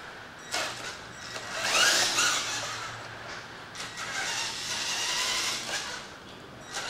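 A custom rewound brushed motor runs at full throttle, giving a steady high whine with a louder surge near the start, then settling into a sustained buzz with no talking.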